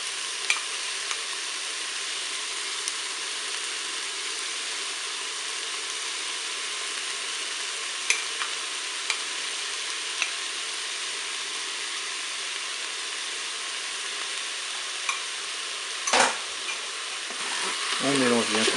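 Steady sizzling from chicken and carrots with honey being stir-fried in a Cookeo multicooker, with scattered light scraping clicks throughout and a louder burst of stirring near the end.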